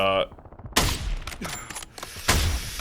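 Gunfire from a Call of Duty Warzone match cracks out in three loud bursts, each with a sharp onset and a short ringing tail, spaced about a second apart.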